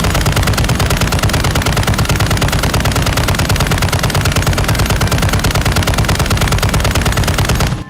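The RAL MG machine gun from Call of Duty Modern Warfare 2, which fires sniper rounds, roars in one unbroken rapid burst of loud, close shots for nearly eight seconds before cutting off abruptly.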